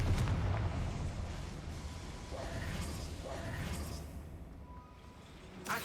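The Confringo fire spell in the Hogwarts Legacy video game bursts with a deep, rumbling explosion that swells and rolls on, followed by softer whooshing debris and a final sharp crack near the end.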